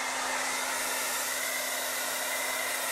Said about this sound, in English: Have you seen the hairdryer?